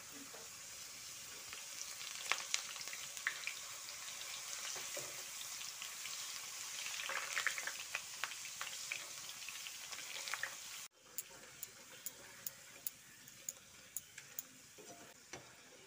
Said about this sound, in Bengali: এইভাবে বাকি চিপসগুলো সব ভেজে নিতে হবে।